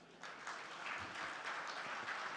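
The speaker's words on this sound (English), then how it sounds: "I think this historic moment calls for a much bigger round of applause." A conference audience claps in a steady, moderate round of applause that carries on for the whole moment, with no voices over it.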